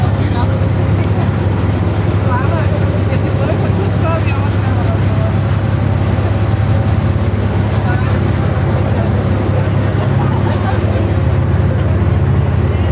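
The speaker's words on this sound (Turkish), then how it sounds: "Yalnız yazık bu evlerdekiler traktör sesi duyuyor habire." An old car's engine labours uphill on a mountain road at Divčibare in Serbia, a loud, steady, tractor-like low drone heard from inside the cabin as people talk over it.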